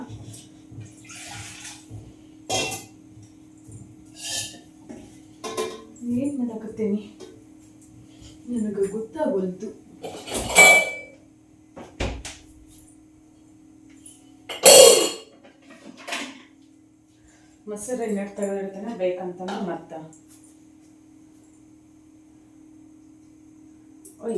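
Metal pots are scrubbed and rinsed, with splashing water and clanking in intermittent bursts between stretches of talk, over a steady low hum.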